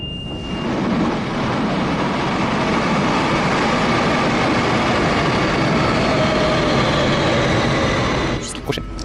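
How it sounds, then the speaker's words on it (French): An Algiers metro train runs with a loud, steady roar of wheels and motors inside the car, a constant rumble with a faint whine, ending in a brief clatter. "Un trajet en métro coûte 50 dinars."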